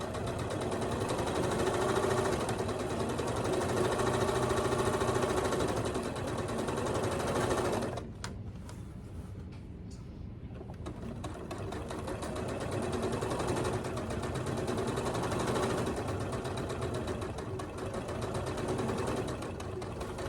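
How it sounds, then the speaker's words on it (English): A Handi Quilter longarm quilting machine back stitches over the bulky seam of a tote bag with a steady, close whirring hum. It drops off briefly partway through, then resumes at full volume, with no voices. "And then I'm gonna back stitch over the top of that bulk too"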